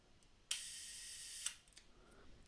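A camera shutter fired with a small release lever at f/11 gives a sharp opening click, about a second of open exposure, then a crisp closing click, close-up and quiet with no talking.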